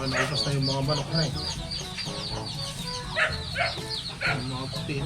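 Chickens at a fishpond farm cluck and chatter continuously nearby, with repeated rhythmic bursts of clucking over a dense background of farmyard bird calls.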